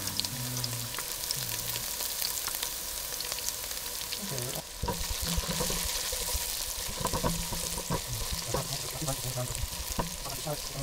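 Purple amaranth leaves stir-fry with shallot in a hot pan, giving a continuous sizzle and crackle with scraping and stirring noises, close and steady, and a faint voice underneath.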